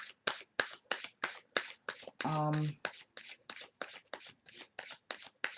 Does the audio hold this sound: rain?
no